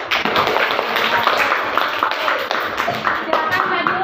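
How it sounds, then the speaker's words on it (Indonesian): Classroom applause for a student group after a presentation: a dense, steady patter of many hands clapping throughout, with chatter from the class mixed in. "tepuk tangan untuk kelompok 1"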